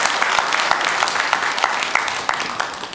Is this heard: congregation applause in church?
yes